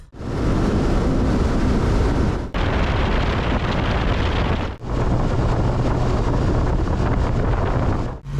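Strong wind blows across a lake beside a fishing boat, buffeting the microphone in loud, rumbling roars that drop out briefly twice, with no talking.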